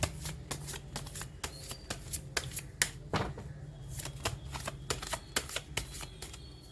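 Tarot cards are shuffled by hand in quick bursts of crisp riffling and flapping, close and fairly quiet, with a brief pause midway before the shuffling resumes.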